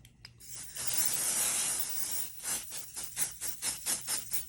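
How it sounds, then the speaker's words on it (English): Adhesive spray onto paper: a steady aerosol hiss for over a second, then a string of short rhythmic spray bursts, fairly faint and close. "put some pixie spray on it, which will just help it stick nicely to the paper."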